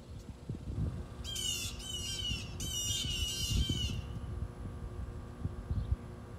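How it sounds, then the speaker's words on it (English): Birds nesting near a garden where asparagus is being planted in containers give a burst of harsh, rapid squawks, two closely spaced volleys a few seconds long, fairly near over a low outdoor hum. "I don't know what's going on, but the birds are extremely upset."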